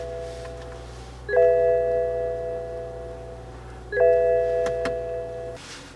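Horn of a 2016 BMW 535i xDrive sounds in two long, steady blasts, each a couple of seconds, loud and close, with a short gap between them and no talking.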